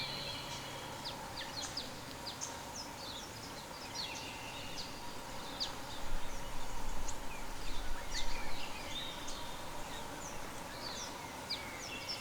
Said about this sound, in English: listening to the sounds of this beautiful campsite. Birds galore